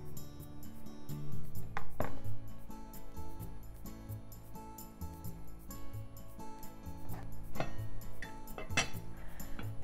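Metal pot and lid clatter and clink in a kitchen as a rice pot with octopus and ginger is covered, several sharp knocks scattered over the span without talk.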